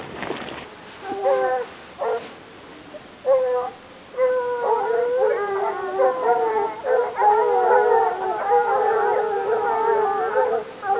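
A pack of seven hunting dogs on a hare hunt bays and howls together outdoors, starting with scattered yelps, then swelling into continuous overlapping cries that stay loud and close.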